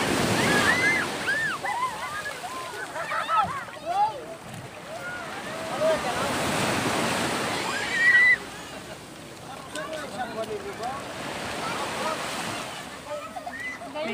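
Strong sea waves washing and sloshing on a beach, with wind buffeting the microphone, surging and receding in loud swells while several people talk and call out over the water.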